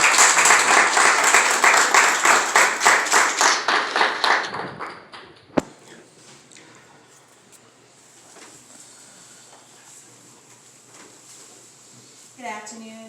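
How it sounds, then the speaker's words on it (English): An audience at a clergy council holiday brunch claps in a loud, steady rhythm for about four seconds, then the applause fades into quiet room noise with a single sharp knock. "Let's give them a hand clap."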